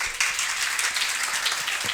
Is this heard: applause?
yes